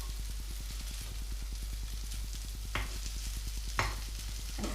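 Vegetable rostis fry in a hot pan with a steady broadband sizzle, a low regular hum beneath, and a couple of sharp scraping clicks from a utensil partway through.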